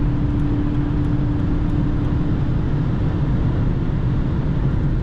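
A 2006 Mercedes C180 Kompressor with a 143 hp supercharged engine, heard from inside the car on the autobahn as a steady engine drone under heavy road and wind roar, with no distinct gearshift audible.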